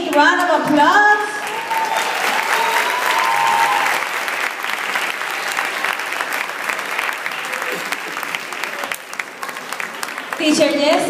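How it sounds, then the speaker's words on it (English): A crowd applauds loudly and steadily, dense clapping sustained throughout, with a voice briefly heard at the start and end. "Let's give a big, big round of applause."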